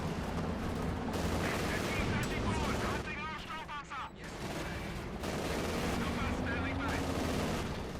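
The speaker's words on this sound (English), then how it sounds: "In the centre, we've got a field gun opening up" A field gun fires in a Company of Heroes 2 match, its heavy booms rolling over dense battlefield noise with scattered small-arms gunfire and a commentator talking throughout.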